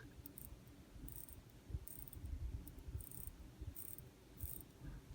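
Crown of a Rolex Datejust 116234 wristwatch is wound by hand, producing very faint, fine ratcheting clicks in short bursts, close up and nearly silent otherwise.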